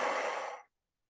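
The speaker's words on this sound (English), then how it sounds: "And exhaling out with the mouth." A single long breath blown out through the mouth during a guided breathing exercise, soft and airy and heard alone, fading to silence after about half a second.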